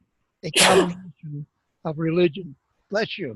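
A single sharp sneeze bursts out near the start, followed by a voice speaking briefly in a quiet room.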